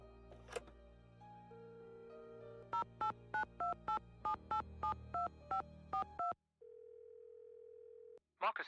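Landline telephone in a Nancy Drew video game: a steady dial tone, then a rapid run of keypad beeps in distinct pulses, a pause, a long ringback tone and a short burst of noise at the end.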